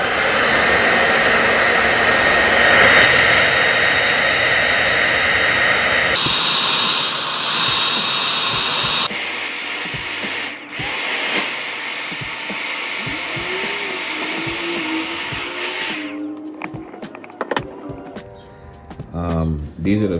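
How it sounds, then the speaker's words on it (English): A loud, steady whooshing motor roar from a hair blow dryer on medium heat and air, drying patent leather, shifting pitch and intensity as settings change, then cutting off near the end. "you can use a hair blow dryer, but just use medium heat and medium air settings"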